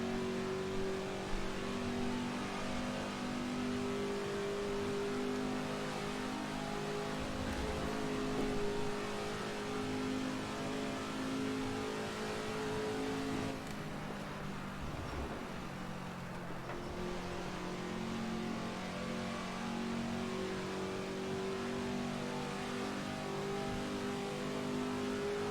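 Race car engines from the Ford vs. Ferrari racing video game, droning and revving steadily with shifting pitch as cars pass throughout, loud and continuous with no talking.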